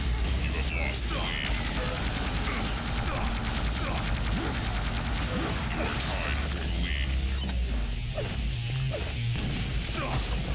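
Gunfire and impacts in Quake 3 Arena, a dense, continuous barrage of shots, crashes and clanks at steady loudness throughout, with busy game noise filling the whole stretch.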